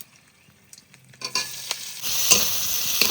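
Chopped onion goes into hot oil already seasoned with cumin seeds and dried red chilli, starting from near-quiet scrapes and rising into a bright, steady close sizzle that grows louder through the end, without any speech.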